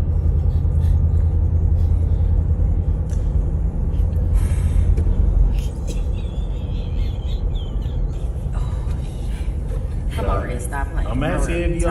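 A car drives along a road, heard from inside the cabin as a constant low rumble, with voices talking over it and a brief chirp near the end.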